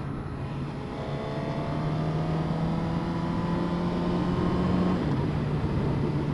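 A 2015 Suzuki GSX-R1000 liter bike runs while being ridden, a continuous engine drone with wind noise whose pitch climbs under acceleration and dips once before rising again.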